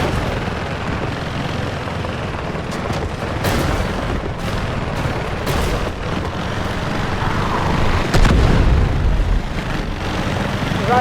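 Artillery barrage in the video game Delta Force, a sustained rumbling wash of heavy booms and scattered sharp blasts, loud and continuous, with a stronger thump near the end.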